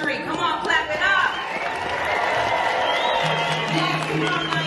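Arena crowd at Madison Square Garden during a WWE women's event, applauding and cheering in a dense, sustained roar with scattered whoops, heard from within the audience.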